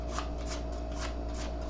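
Playing cards shuffled into a deck, a steady run of soft riffling flutters close by over a constant low hum, with no voices.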